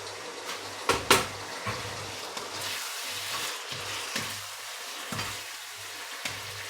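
Beef strips sizzling in a hot pan for Mongolian beef, a steady frying hiss punctuated by sharp scrapes and clanks of a utensil stirring against the pan.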